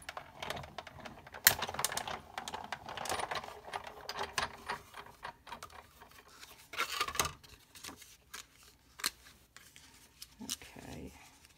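A die cutting machine cranks a card sandwiched between cutting plates, giving a series of irregular clicks, ratchety clatters and rubbing scrapes of moderate loudness, with no one speaking.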